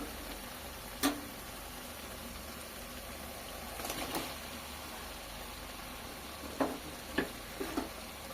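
Fried chicken is sautéed with spices in a pan, making a faint, steady sizzle broken by a few sharp clinks and scrapes of stirring.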